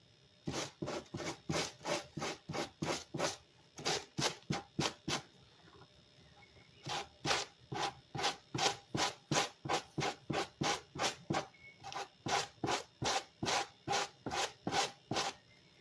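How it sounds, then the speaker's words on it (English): Steady back-and-forth rasping of strong sandpaper on a lampshade, up close and loud, in quick, even strokes with a couple of short pauses between bursts. "this is strong sandpaper, and it should just fall right off"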